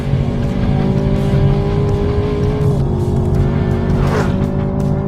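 A Chevrolet Camaro ZL1 1LE driven hard on a race track gives a loud, sustained engine roar with shifting pitch, and tires squeal briefly through a corner. The sound is close and continuous, with no speech.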